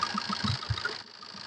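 Maruti Swift Dzire diesel engine idling, a steady mid-pitched running hum with soft rhythmic knocking pulses, fairly close and moderately quiet, with no talk.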